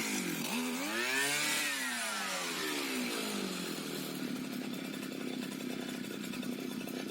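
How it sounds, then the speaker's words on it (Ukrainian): A petrol brush cutter runs just after a carburetor repair. The engine revs up and falls back, then settles into a steady loud idle drone, close by and with no voices. "Отак працює коса."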